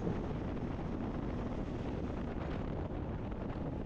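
Steady, dense rushing wind roaring against a rider's helmet on a Yamaha Ténéré 700 Rally motorcycle fitted with a windshield at speed, a constant broadband buffeting without pauses or voices.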